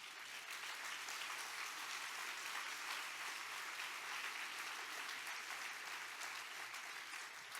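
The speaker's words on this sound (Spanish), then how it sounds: "dale un aplauso" A church congregation applauds after worship, a dense, steady roar of many hands clapping that fills the room without pause from start to finish, sounding somewhat distant and even.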